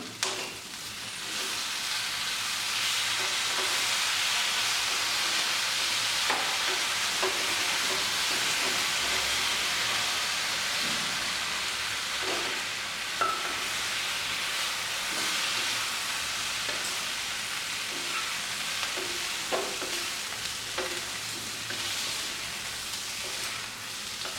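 Baby corn stir-frying in a pan with pepper and soy sauce gives a steady, close sizzling hiss that runs unbroken, with occasional soft scrapes and clicks of stirring.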